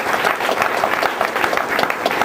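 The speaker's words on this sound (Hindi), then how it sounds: "इनके लिए जोरदार ताली।" An audience claps loudly and steadily, with dense, continuous applause from a crowd filling the whole moment and no voice heard above it.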